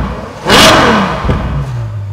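Ferrari FF V12 engine revving hard to high rpm, a loud surging roar that peaks and then settles into a steady lower drone, heard alone at close range.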